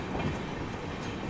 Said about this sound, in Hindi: और ये मेरे ख्याल से अयोध्या वंदे भारत एक्सप्रेस थी